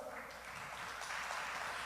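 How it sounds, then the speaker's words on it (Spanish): Congregation clapping hands together during a church service, a dense steady wash of applause that holds evenly for the whole stretch, with no single claps standing out. "démosle palmas a nuestro Dios"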